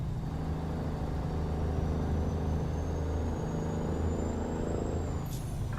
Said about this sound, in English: this engine sounds fantastic in this truck